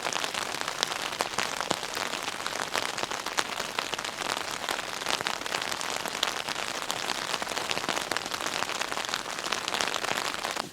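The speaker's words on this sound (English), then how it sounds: "You guys can listen to the rain." Steady rain patters densely on a surface in a mountain forest at night, a constant close hiss of drops with no voices or other sounds.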